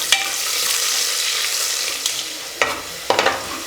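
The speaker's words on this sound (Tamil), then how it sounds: "ஒரு வெங்காயத்தை நீல வாக்கில் கட் பண்ணியிருக்கேன். அதை போட்டுட்டு நல்லா செவந்து வர்ற அளவுக்கு இதை வதக்கிக்கலாம்." Sliced onion fries in a pan, a steady loud sizzle and hiss with a few sharp scraping knocks of a stirring utensil near the end, close up and with no talking.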